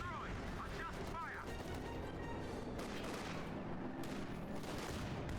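Video game battle noise as a grenade and gunfire destroy a Panzer IV tank: dense, continuous rumbling blasts and rattling fire with a few short whistling sounds, loud throughout.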